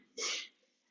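A single short sneeze bursts out in a quiet council meeting room, a loud breathy blast lasting about a third of a second before fading back to near silence.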